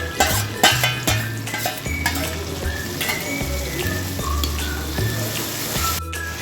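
Masala paste of tomato sauce and ginger-garlic paste frying in a pan for chicken kosha, giving a steady close sizzle with scraping and stirring bumps throughout, and no talking.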